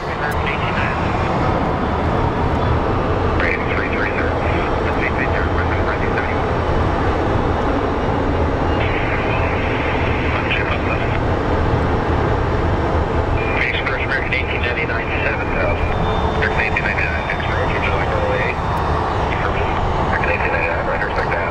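A Boeing 757 jet airliner passes at Phoenix Sky Harbor airport with a loud, continuous engine roar that holds steady throughout. Someone talks over it.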